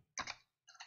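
Computer keyboard typing in two quick, quiet bursts of keystrokes separated by a short pause, with no talking.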